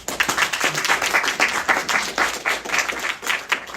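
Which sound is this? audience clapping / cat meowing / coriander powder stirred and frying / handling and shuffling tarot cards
audience clapping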